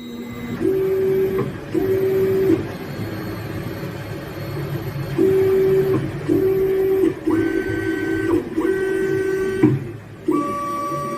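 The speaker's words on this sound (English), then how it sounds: "Smooth contact being made with the base plate, so calibration is being performed. It's taking its measurements." A 3D printer runs assisted build plate leveling calibration: repeated motor whines in steady on-off bursts, with pitch steps between moves, over a constant mechanical hum, close and fairly loud.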